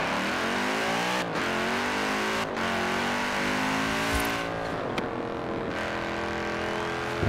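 An Audi RS6 police car in Forza Horizon 4 revs and accelerates hard, its engine note climbing through several gears with brief dips at gear changes and a continuous loud, throaty roar, close up and with no talking.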